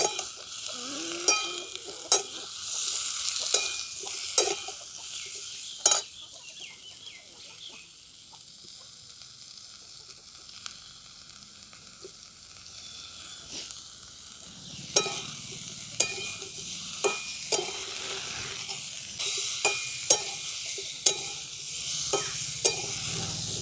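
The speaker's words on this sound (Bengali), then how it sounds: "নুন হলুদ দিয়ে ভালো করে সবজিগুলো ভাজা ভাজা করে নিয়েছি" Winter vegetables seasoned with salt and turmeric are stir-fried in a pan, a soft continuous sizzle broken by regular scraping and tapping spatula strokes.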